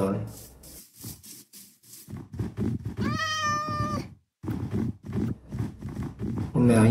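A cat meowing in a video game, one clear drawn-out meow standing out over constant nearby talk and scuffling game sounds.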